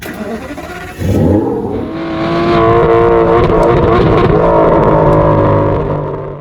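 Ferrari Purosangue SUV engine fires up and revs, a loud, close mechanical roar that climbs in pitch, holds at a high, steady drone and then eases off toward the end.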